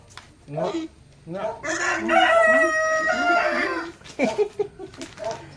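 A rooster crows loudly and nearby, one drawn-out cock-a-doodle-doo, with some clucking and a voice around it.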